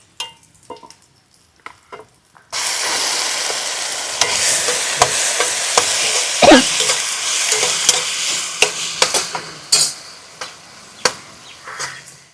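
Ground beetroot paste is poured into a hot pan of frying onions, setting off a sudden loud, steady sizzle, followed by spatula stirring with scrapes and taps as the frying quiets down.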